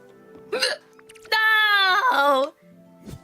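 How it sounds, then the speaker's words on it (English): A woman hiccups in short, sharp, squeaky bursts, one loud drawn-out whimpering hiccup standing out among smaller ones, close to the microphone. "Oh no, I have the hiccups."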